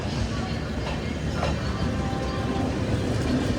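A passenger express train hauled by a WAP-7 electric locomotive stands at Azimganj Junction station, a low continuous rumble under platform ambience with faint distant voices and a brief higher squeal partway through.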